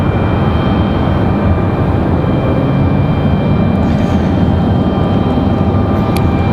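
A Republic Airways airliner departs Raleigh-Durham International bound for LaGuardia, a loud, steady, broadband engine roar that holds throughout with no voices.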